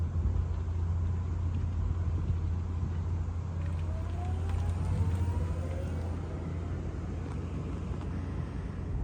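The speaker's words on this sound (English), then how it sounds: "she has accidentally merged onto the Autobahn in the Microlino" A Microlino electric car travels on the Autobahn, heard from inside as a constant low road and wind rumble with a faint rising whine passing midway.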